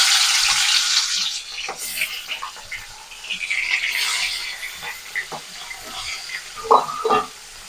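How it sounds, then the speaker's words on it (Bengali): Rohu fish pieces fry in hot mustard oil, the loud sizzle flaring as each piece goes in and then easing into uneven crackling and spitting, close by. "তেলটা গরম হয়ে গেছে, এবার মাছগুলো আমি একে একে ছেড়ে দেবো।"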